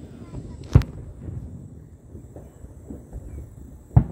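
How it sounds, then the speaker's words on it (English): Two sharp, booming firework blasts sound over a lake about three seconds apart, standing out above a low, steady outdoor rumble with faint background chatter. "let's keep watching those awesome fireworks"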